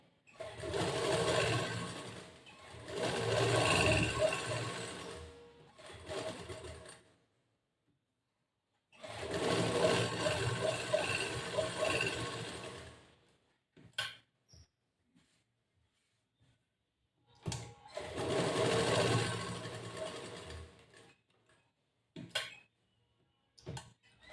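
A sewing machine stitches a blouse in several bursts of a few seconds each, with quiet pauses and faint handling clicks between them, fairly close and with no one talking.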